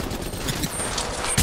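Rapid gunfire in Apex Legends Mobile, a dense crackling burst of shots under a noisy game soundscape, with a louder crack right at the end.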